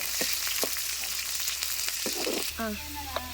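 Onions and tomatoes fry in a pan for a village-style egg curry, a steady close sizzle with a few stirring scrapes and clinks running throughout.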